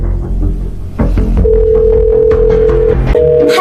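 A telephone call is dialed, producing steady electronic tones that hold for a while, shift in pitch and then resume, close and loud over low rumbling background noise.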